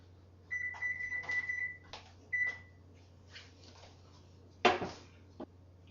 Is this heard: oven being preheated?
yes